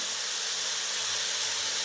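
Vegetables sizzle in a spoonful of oil in a pan, giving a steady, even hiss that runs throughout without pause.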